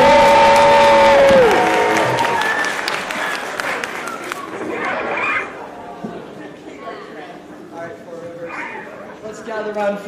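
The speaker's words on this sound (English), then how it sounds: "let's hear a cheer from the runners before we get the first score" A crowd of runners at a variety show cheers and claps after a song fades out, the cheering loud at first and then tapering into scattered shouts and applause.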